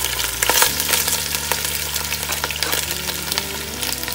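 Garlic, galangal and ginger fried in a pan give a loud, close, crackling sizzle with steady stirring scrapes throughout, and no voices.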